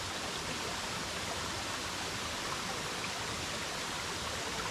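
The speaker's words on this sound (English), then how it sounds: "This waterfall is really pretty." Steady, dense rush of falling water, loud and close, with no breaks or voices.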